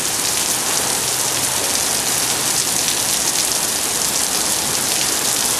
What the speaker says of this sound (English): now it's going to rain like this on a school day